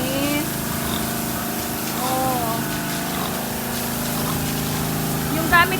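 Water hose spraying a steady stream while pigs are washed in a fattening pen, not a power sprayer; the continuous hiss and gush runs under people talking nearby.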